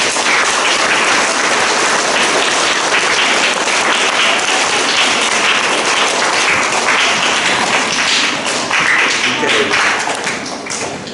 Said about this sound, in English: can we give them all a big round of applause, please?